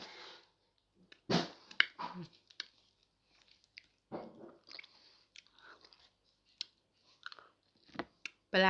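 Someone bites and chews sour mango, giving scattered crunchy, wet bites with quiet gaps between them, close to the mic and fairly faint, with brief vocal sounds now and then.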